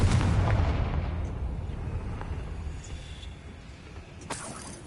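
A Confringo fire spell bursts in the Hogwarts Legacy video game, a loud booming blast at the start that rumbles and fades over several seconds, with a sharper crack near the end.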